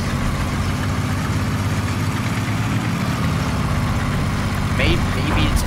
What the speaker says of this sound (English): Our tank's coming down the road, so I can kill him.